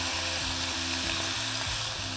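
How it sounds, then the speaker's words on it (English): Burgers on a grill sizzle loudly as a spatula presses them down, a dense close continuous searing hiss with no pauses. "take your spatula and push down so that they get those nice sear marks"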